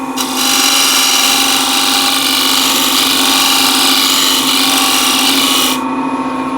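A loud, continuous whirring rush of a wood lathe as a turning tool cuts the flat face of the spinning workpiece, steady for several seconds, then easing slightly near the end.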